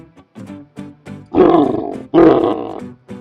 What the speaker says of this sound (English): The bear roars.